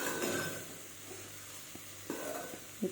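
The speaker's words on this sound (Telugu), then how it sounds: "ఫ్రై అవుతుంది." Ginger garlic paste with turmeric and salt frying in a pan, a soft continuous sizzle with a few stirring knocks and scrapes toward the end, fairly quiet and without talk.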